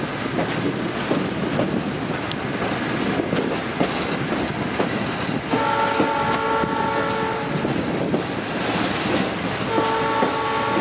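A 1940 vintage train on the Hiawassee River Scenic Railroad rolls along with a steady rumble and clatter of cars, while its horn sounds in two long sustained blasts partway through.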